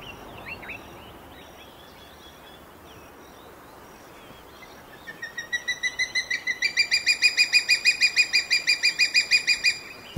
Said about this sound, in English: The air resonates with the sound of a juvenile crowned eagle.